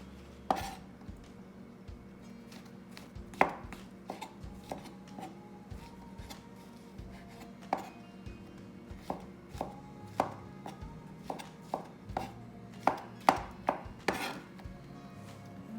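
A knife roughly chopping mushrooms on a counter, with irregular sharp knocks in uneven bursts, close by and quiet, with no voices.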